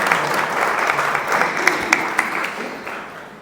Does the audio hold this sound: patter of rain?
no